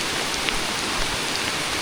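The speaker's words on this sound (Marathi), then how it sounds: "पाऊस वाढत चालला आहे." Heavy monsoon downpour by a river in the Konkan, a dense, even roar of rain on surfaces close by, with no voices.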